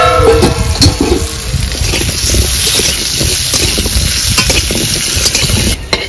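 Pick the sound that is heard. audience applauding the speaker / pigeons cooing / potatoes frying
potatoes frying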